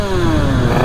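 A motorcycle engine warming up gives a short, loud, close rev with a steady buzzing tone that slides slightly in pitch, heard alone.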